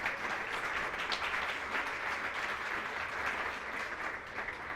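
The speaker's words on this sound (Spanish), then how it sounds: "¿Cuánto le da un aplauso al Señor?" A church congregation applauding together, a sustained wash of steady clapping from many hands at moderate distance, even in loudness throughout with no voices standing out.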